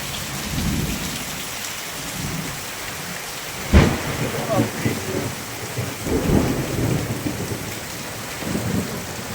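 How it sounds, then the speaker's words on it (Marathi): Heavy rain pours steadily outdoors during a thunderstorm, with one sharp nearby thunder crack around the middle followed by rumbling and rushing wind noise. "जबर पाऊस जबर"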